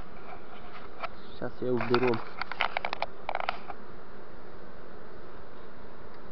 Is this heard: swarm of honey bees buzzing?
yes